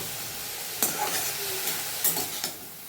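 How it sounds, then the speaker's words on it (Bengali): Pumpkin greens and vine tips frying in a pan give a steady close sizzle, with a few sharp stirring scrapes of the spatula breaking through and no voices. "মিষ্টি কুমড়ো ডগা, এই যে বানাচ্ছি একটু ভাজা ভাজা"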